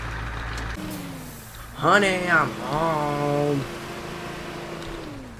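A truck's engine drones low and steady in the Teardown video game while someone talks over it, his voice rising above the constant motor hum.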